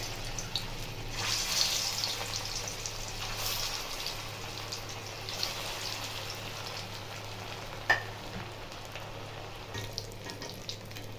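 Aloo tikki patties frying in hot white oil in a kadai, a continuous hissing sizzle at moderate level with a low steady hum underneath and one sharp click near the end; no talking.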